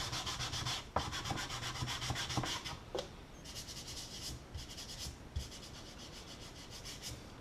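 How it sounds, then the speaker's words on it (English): Wood filler on quarter round being sanded by hand with 400 grit sandpaper on a small sanding block, a close, steady rhythmic rasp of back-and-forth strokes with a few brief pauses. "I think it's 400 grit sandpaper here on the back of my little sanding block here"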